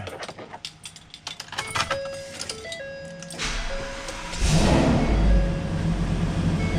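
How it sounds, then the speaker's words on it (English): A truck's dashboard sounds a few warning chimes and beeps, then the engine cranks and starts, rising into a loud, close rumbling idle. "So I'm gonna get in here and start the vehicle."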